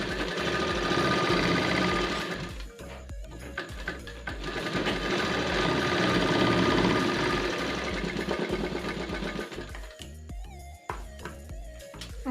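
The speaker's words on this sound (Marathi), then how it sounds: "आता हे सरळ करून घ्यायचं आहे आणि ह्याच्यावर दाब शिलाई मारायची." A sewing machine rattles steadily and close up while top-stitching a baby cap, a fast mechanical chatter with a couple of short pauses before a final few stitches.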